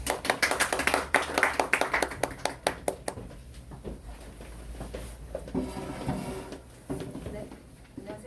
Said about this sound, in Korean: 자, 박수로 환영해 주시죠.